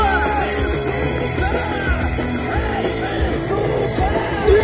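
A crowd of children yells together at a concert on the Dniester, a sustained loud mass of voices with steady energy, backed by low rumbling music throughout.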